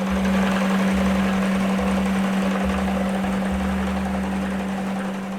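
Old grist mill machinery at a historic mill in Guilford County, North Carolina, grinding grain into flour with a vertical millstone, giving a loud, steady mechanical drone with a constant hum and rumbling throb throughout.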